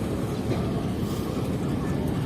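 Steady low rumble of a Jaffer Express rake being placed at the main platform of Quetta railway station, a continuous near train and platform drone with no clear speech.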